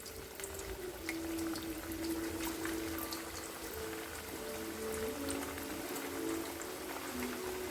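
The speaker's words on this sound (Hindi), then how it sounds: "तेल अब गरम हो गया है। अब इसमें हम एक एक करके टिक्की डालेंगे।" Leftover-roti tikkis going into hot frying oil one by one give a steady bubbling sizzle with light crackles throughout, moderately loud and continuous with no talking.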